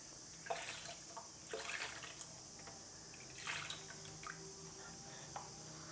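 Water pours steadily into a pot of fish curry (sankara meen kulambu) with a soft, continuous splashing hiss and a few light knocks, quiet and close.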